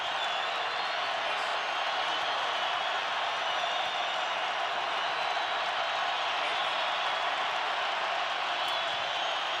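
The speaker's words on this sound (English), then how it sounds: "Crowd is lively on 4th down." A football stadium crowd at a college game between California and BYU, cheering on fourth down with a dense, continuous roar that holds steady throughout and sits at a distance.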